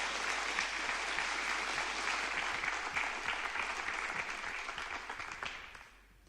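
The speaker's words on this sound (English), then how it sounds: "I think that deserves a round of applause." Applause from an audience at a service dog team training graduation, dense and steady clapping that fills the room, then gradually fades toward the end.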